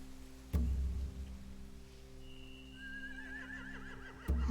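Horses in a video game: a low stamp and rumble opens the clip, then a steady drone holds, and a thin wavering whinny rises toward the end before another thud, faint and distant.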